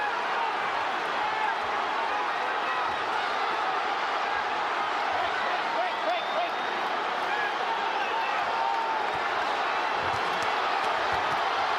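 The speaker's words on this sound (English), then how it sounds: "the crowd stands and applauds" A boxing arena crowd at the Oscar De La Hoya vs Shane Mosley fight stands and applauds in a continuous roar of clapping and cheering that holds steady and loud throughout, with no break.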